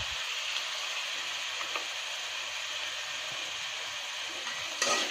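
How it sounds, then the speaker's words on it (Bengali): Quail meat frying in a pan with coconut, ginger and cumin paste gives a steady, dense sizzle throughout, with occasional faint scrapes of stirring and a brief louder clatter near the end. "এবার ভালো করে ভেজে নেব"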